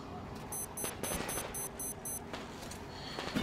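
Gunfire in the game Metro: Exodus, a run of regular bursts at close range with bright metallic ringing tones over a busy background, ending with a louder crack.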